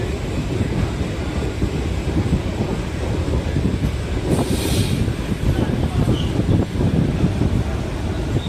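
Tiruchendur to Tirunelveli passenger train running on its rails, a steady loud rumble with soft rhythmic clatter throughout and a faint higher hiss in the middle.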